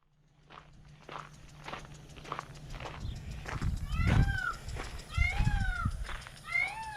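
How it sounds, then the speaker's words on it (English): Peacocks call outdoors near a rural home property, loud rising wails with sliding tones repeated several times, over footsteps and low rustling nearby. "Those are our friendly neighborhood peacocks."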